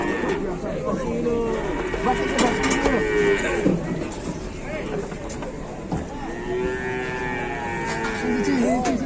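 A cow, apparently stuck, moos several times in long, low, drawn-out calls, close by, with outdoor background noise and some voices.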